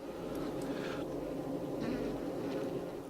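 A freshly emerged Apis honeybee worker drying its wings gives off a faint, steady insect buzz with brief rising whirs of wingbeats over a low background hum.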